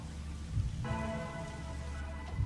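Steady gentle rain falls in the detective game Rain Code, a soft continuous patter with a low rumbling bed and faint tonal background hum, no voices.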